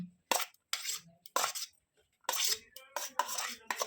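Chopped carrot going into minced chicken for homemade momos, heard as several short, sharp clinks and scrapes of a utensil against a bowl, separated by brief silences.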